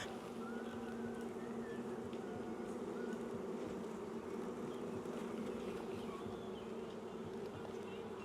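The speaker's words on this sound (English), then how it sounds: "now that the bees are in their hive" Honey bees swarming around a newly installed beehive, a dense, continuous buzzing hum at low level, steady and unbroken with no talk.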